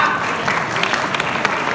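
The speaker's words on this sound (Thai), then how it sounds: "พี่หลิงครับปรบมือให้หน่อยฮะ" Audience applause at a hotel opening and anniversary event, steady dense clapping from a crowd that holds evenly for the whole moment, with no voices over it.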